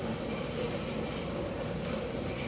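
A passenger train rolls along its rails with a continuous, steady rumble and a faint high wheel squeal. It stays even and unbroken throughout, heard from inside the carriage with no voices.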